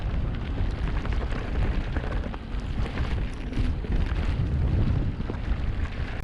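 Strong, bitterly cold wind buffets the microphone on a snowy mountain bike trail at Cwmcarn, a loud, continuous roar and rumble with no talk.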